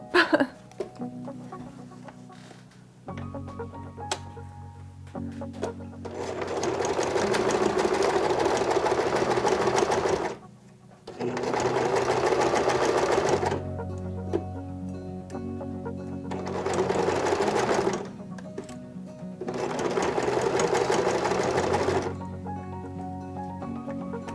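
Sewing a fabric doll slowly around corners, a sewing machine driven by its hand dial rather than the pedal whirs in four separate bursts, with short quiet gaps between the runs.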